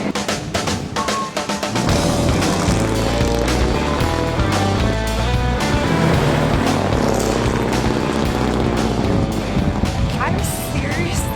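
A car engine roars continuously and loudly throughout a ride, a dense sustained drone with shifting tones.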